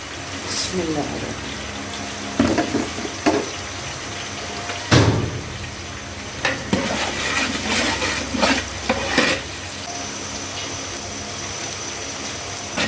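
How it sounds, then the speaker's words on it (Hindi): Onions fry in a pot with garam masala, black and green cardamom and cloves for chana pulao, giving a steady sizzle broken by several sharp clatters of stirring against the pot. "प्याज हमारा ब्राउन होना शुरू हो गया है। जब तक ये सारा अच्छी तरह ब्राउन नहीं हो जाता तब तक हम इसको फ्राई करेंगे।"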